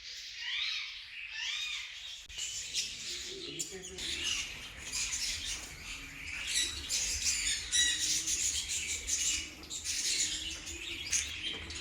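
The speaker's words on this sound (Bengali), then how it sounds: "ছোট ছোট কত রকম পাখি, আর তাদের কত রকম আওয়াজ।" Small caged birds at a picnic garden mini zoo keep up a busy chorus of high chirps, squawks and tweets, close and continuous, with faint background murmur.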